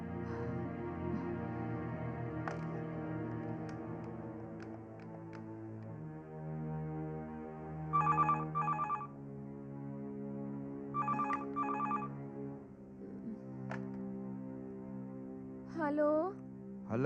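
A telephone rings in two short warbling bursts several seconds apart, moderately loud over a sustained droning music bed in a Hindi horror-thriller scene; no talk over the rings.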